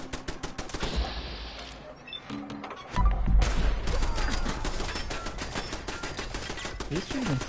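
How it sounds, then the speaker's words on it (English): Rapid gunfire from a weapon loaded with incendiary rounds in Fallout 4, a dense burst of cracks and crackles under busy game noise, with a heavier stretch of shots partway through. "Is this shooting incendiary rounds?"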